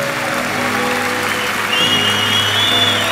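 A church congregation claps continuously during worship, a dense, steady wash of applause with a high sustained tone entering partway through.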